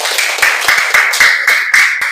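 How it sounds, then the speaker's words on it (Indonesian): A small group claps for a student reader in a classroom, a short burst of about eight distinct, fairly close handclaps in an uneven rhythm, each a sharp crack with no voices. "tepuk tangan untuk kasih Fania dulu"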